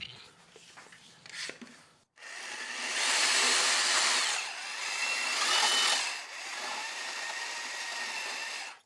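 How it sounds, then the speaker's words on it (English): A jigsaw cutting out a clamped wooden table saw insert piece, a loud close motor whine with buzzing blade chatter starting abruptly after quieter handling noises and holding steady for several seconds with slight dips. "Now I'm probably going to use a jigsaw"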